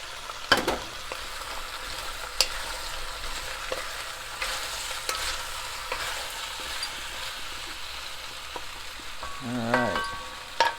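Onions sizzling and frying steadily in a pan for butternut squash soup, a constant soft crackle with a few sharper pops and the scrape of stirring, no talking over it.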